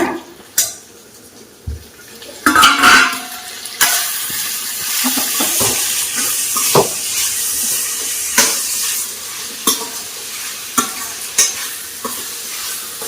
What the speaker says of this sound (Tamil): இறால் போட்டு நல்லா வதக்கியாச்சு